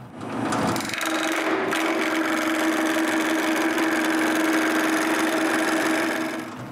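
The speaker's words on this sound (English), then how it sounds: "Then I turn a cylinder" A lathe spins a maple blank into a cylinder, giving a steady motor hum with a bright, continuous tone and scraping from the cutting tool, constant and close throughout.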